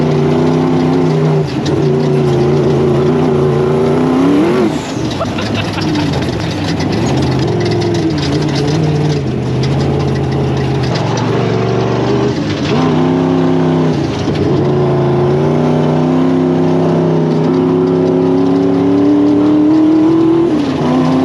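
A twin-turbo V8 sandrail drives across the Glamis dunes, its engine a loud, continuous roar that rises and falls through repeated throttle swells, with no voices.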